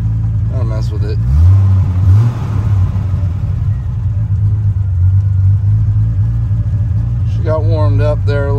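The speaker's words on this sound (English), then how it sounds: "Just wanted to give you a little shot of inside the TR6 running" A Triumph TR6 engine idling roughly after a warm start, a loud steady low rumble with slight unevenness close by, while someone talks over it at the start and end.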